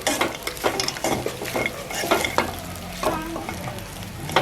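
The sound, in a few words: stirring sesame seed rice in a pan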